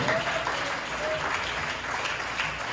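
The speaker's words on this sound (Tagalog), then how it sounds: "Isang malakas na palakpak para sa ating alam Panginoon" A church congregation claps steadily, a sustained wash of applause filling an echoing room, with no talking.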